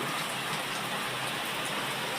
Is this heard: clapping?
no